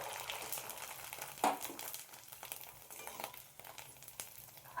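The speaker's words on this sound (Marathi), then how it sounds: "आता बघा तेलामध्ये सांडगे अगदी थोडेसे टाकलेले आहेत मी तेलामध्ये तळण्यासाठी" Sago and potato sandge fry in very hot oil with a soft, continuous crackling sizzle, quiet overall, with a few sharper pops breaking through.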